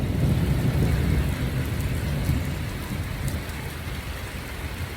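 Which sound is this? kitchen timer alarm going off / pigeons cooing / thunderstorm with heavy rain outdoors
thunderstorm with heavy rain outdoors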